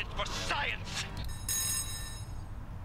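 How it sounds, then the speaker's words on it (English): A telephone rings in the Mario Paint video game, a bright electronic trill with a sustained tone, heard alongside speech early on. "someone's calling on the picture phone"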